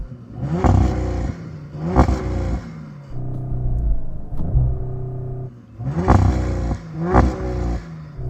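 A car engine revs hard in repeated bursts, roaring up and falling back, with a lower idling rumble between the loud pulls.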